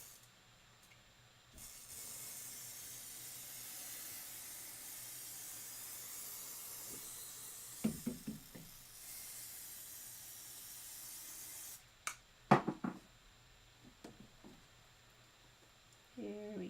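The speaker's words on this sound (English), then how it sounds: "Okay, one more spray." Spray hisses onto quilting fabric in one long, steady burst lasting about ten seconds, followed by quieter rustling and handling of the cloth, with another short spray at the very end.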